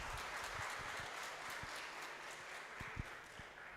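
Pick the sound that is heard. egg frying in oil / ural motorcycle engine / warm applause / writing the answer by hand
warm applause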